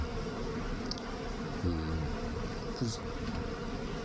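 Honeybees buzz around a hobby beehive in October, a close, continuous droning hum with a few individual bees passing louder.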